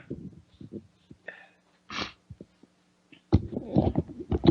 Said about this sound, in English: Little sneeze break there, I apologize.